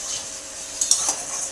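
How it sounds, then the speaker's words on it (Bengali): Potatoes fry in a pan with a soft, steady hiss, while a couple of quick metallic scrapes and clinks of a spatula stand out near the middle, close and fairly quiet. "এখন আলু ভাজা করছি"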